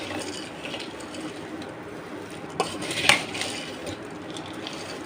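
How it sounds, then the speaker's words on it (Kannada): Churumuri, a puffed rice snack, mixed by hand in a bowl: soft continuous rustling with a couple of sharper clinks against the bowl midway, fairly quiet and close. "ಒಂದು ಕೈ ಒಳಗೆ ವಿಡಿಯೋ ಮಾಡ್ಕೋತ ಚುರುಮುರಿ ಮಿಕ್ಸ್ ಮಾಡೋದಾಗಲ್ಲ"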